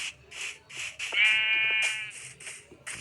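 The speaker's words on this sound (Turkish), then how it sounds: "Koyun." Sheep bleat from outdoors near a tent camp, one long wavering call standing out amid several shorter, fainter bleats spaced across the few seconds, moderately distant.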